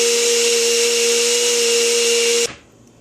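A blender whirs steadily as it mixes a spirulina infusion, a loud, even motor whine with a strong tonal hum that runs for over two seconds, then cuts off abruptly, leaving faint room noise.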